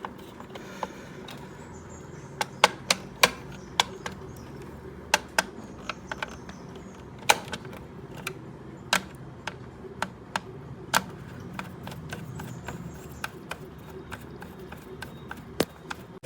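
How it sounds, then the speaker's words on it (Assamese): Quiet ratcheting clicks of screws being fitted and tightened on a mixer grinder under repair: a steady, irregular series of sharp ticks over a faint mechanical background, with no talking. "এতিয়া মই স্ক্ৰু এইটো ফিটিং কৰি টাইট কৰিম, কৰি তাৰপিছত চাৰিটা স্ক্ৰু লগাওঁ।"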